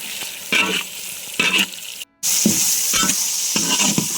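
Chopped onions frying in a pan for chicken korma polao, a steady loud sizzle broken by bursts of stirring scrapes and one brief dropout, no voices.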